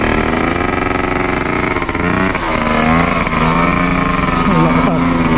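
A Honda Dio motorcycle engine, a 90cc scooter, runs loud and close with a steady buzzing drone and slight rises in revs, while people talk over it.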